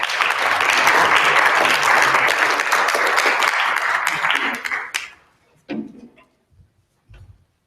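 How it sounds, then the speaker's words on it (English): A room full of people gives a long round of applause for a guest speaker at a church Bible quizzing coach workshop, the dense clapping loud and steady for about five seconds before thinning to a few scattered claps. "could you give a round of applause to Sister Cindy Bounds?"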